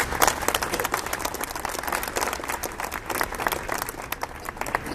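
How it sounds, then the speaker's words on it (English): Sustained audience applause at an airport dedication ceremony, a dense steady wash of many hands clapping throughout, fairly loud and continuous with no voices standing out. "Let's give them another round of applause."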